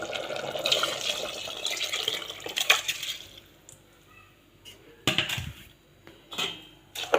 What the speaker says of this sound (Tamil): தண்ணி நல்லா ஒரு கலக்கி விட்டுருங்க